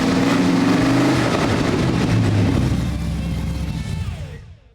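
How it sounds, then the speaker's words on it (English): A Chevy 350 V8 in a junkyard square-body truck cranks over and then revs hard with a few loud throttle blips. The close, roaring engine note swells and falls before fading away at the end. "we were able to crank up the engine and give it a couple pops of the throttle"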